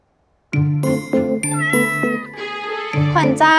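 A show cat meows repeatedly in a string of clear, tonal, close-up cries that overlap and continue without pause after a brief silent start.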